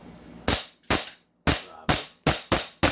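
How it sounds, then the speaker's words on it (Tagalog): Airsoft gun fired from the side, gas-powered: six sharp loud shots in an uneven rhythm, each a bright crack with a short decaying tail, close to the microphone and without talk. "Okay, firing si Lucas, mga airsoft"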